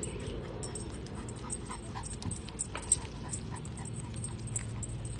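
A dog on a leash walk, a dog with a history of multiple bites, pants steadily with soft whimpers, close by and continuous over outdoor background noise.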